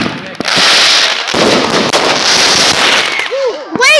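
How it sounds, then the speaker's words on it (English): Fireworks going off nearby at night: a dense, loud stretch of crackling bursts and pops, with voices calling out over the noise near the end. "did you set off all your fireworks?"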